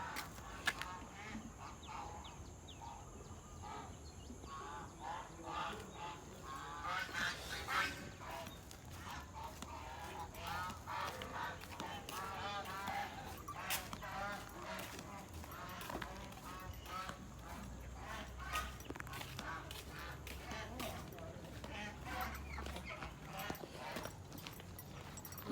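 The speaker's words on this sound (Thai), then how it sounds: "เป็ดไก่ห่านเป็ดกาบคอสัตว์ไหน" Ducks, chickens and geese call around a rural village in the morning, with scattered honks and clucks over a steady outdoor background and irregular clopping beats, all heard from a moderate distance throughout.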